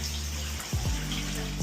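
A newly repaired shower head sprays water in a steady close hiss, with a brief gurgling surge and shift in flow partway through.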